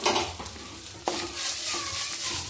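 Grated coconut frying in oil in a pan for a Kerala jackfruit stir-fry, giving a steady broadband sizzle with occasional stirring clacks, close and fairly loud, no voices.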